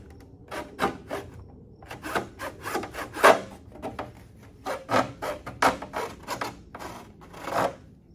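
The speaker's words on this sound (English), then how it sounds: "I just have this saw, so I'm going to use that" A hand saw cuts by hand through material for a MaxxAir roof fan install in a Blackseries HQ19 caravan, with steady back-and-forth rasping strokes in bursts, close and fairly loud, with short pauses between runs.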